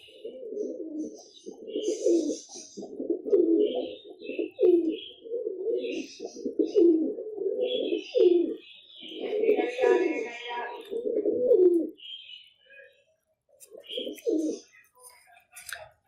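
Pigeons coo in low, throaty, repeated bursts, close and steady for several seconds, with a few faint chirps and some quieter moments.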